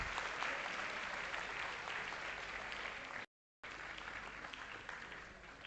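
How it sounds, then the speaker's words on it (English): An audience claps in a sustained, dense round of applause for student coordinators at a college event, loud and steady, cut by a brief silent gap before resuming. "Make a big round of applause for all the student coordinators."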